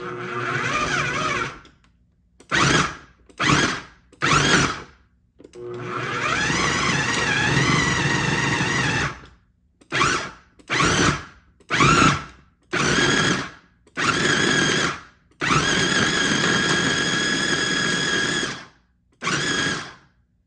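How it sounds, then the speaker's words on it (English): Kitchen blender pulsing a dumpling filling of wok-fried mushrooms, loud whirring bursts of varying length, several short pulses then long runs, alone without talk. "I don't want to blend too much, so that way you cannot taste the pieces"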